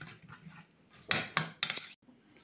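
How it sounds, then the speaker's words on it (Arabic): Quiche filling mixed in a bowl, a few quick clinking and tapping strokes of a utensil against the bowl, close and fairly loud against a quiet kitchen background. "صافي هنايا غادي ندير نخلط بحال هكا"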